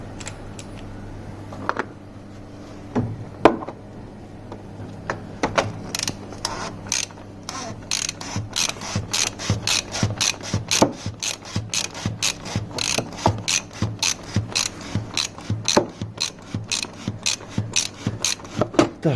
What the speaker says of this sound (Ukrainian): і підтягуємо ключом